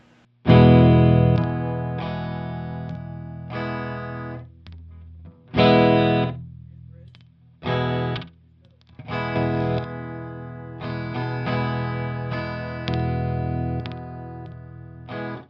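1980 Peavey T-60 electric guitar amplified on the neck pickup playing a choppy rhythm of distorted chords, bursts separated by brief gaps, fairly loud with no talking.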